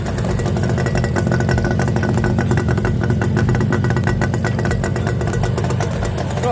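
An Izh Jupiter motorcycle engine runs steadily close by, a loud, even chugging rumble with rapid rhythmic pulses and no voices.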